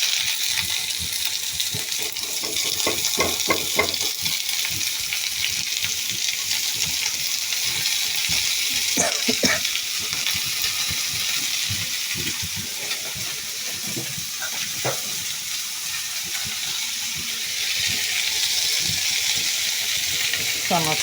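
Bitter gourd and chickpeas fry in a pan, a continuous hiss of sizzling oil broken by clusters of spoon scrapes and clinks as they are stirred, close up throughout.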